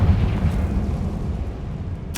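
A Confringo blasting curse explodes in the Hogwarts Legacy video game, a loud, deep boom that rumbles and slowly fades over about two seconds, with a sharp new burst cutting in at the very end.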